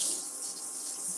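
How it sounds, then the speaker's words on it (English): Water runs steadily from a tap for rinsing in a home kitchen, a soft, continuous hiss with no break, fairly quiet and heard on its own. "Let me rinse this off."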